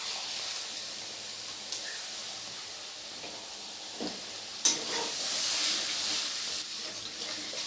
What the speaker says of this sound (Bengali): এই মশলাটা দিয়ে অনেকক্ষণ খুব ভালো করে কষিয়ে নিতে হবে, যতক্ষণে না তেল ছেড়ে যাচ্ছে